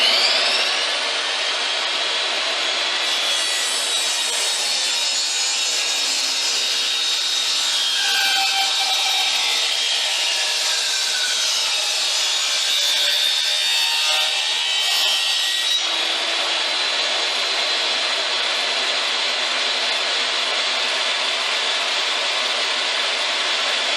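A steady, loud power saw cuts lengthwise through 2x4 wooden boards for the whole stretch, its pitch shifting slightly as the blade works, with no talking.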